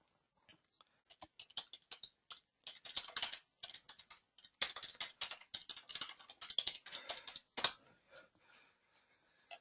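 Fingers typing on a computer keyboard while entering a website address, with quiet, irregular key clicks in bursts and short pauses, close and soft with no talking.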